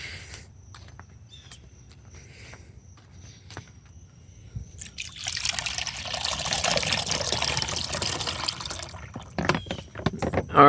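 Water pours out of a hacked Yeti cooler after a few quiet seconds of faint handling clicks, becoming a steady, close splashing stream for about four seconds before breaking into drips and clatter.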